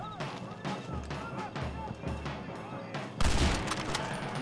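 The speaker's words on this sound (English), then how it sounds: "Rolling block rifle." Rolling block rifle shots in the video game Red Dead Redemption ring out amid a rapid, crackling exchange of gunfire, with a heavier blast near the end, while a player talks over the action.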